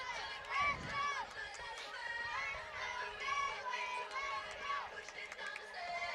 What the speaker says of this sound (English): The crowd's really into it.